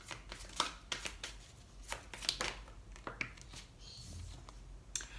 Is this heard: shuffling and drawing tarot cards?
yes